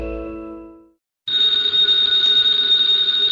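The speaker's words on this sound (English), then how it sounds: "the ringing of that phone bell means mystery," An old-fashioned telephone bell rings loudly and continuously in a radio drama, a bright sustained metallic trill following a fading tone and a brief silence.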